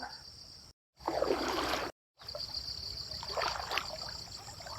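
Floodwater from rain rushes and gurgles steadily nearby at the foot of a hill, a constant wash of flowing sound broken by two brief gaps.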